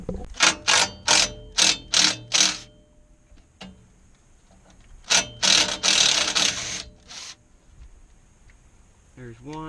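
A powered driver spins 5/16 screws out of a protection plate on a 1987–1991 Ford F-Series truck, a run of short whirring bursts, a pause, then a longer burst, close up with someone talking in between.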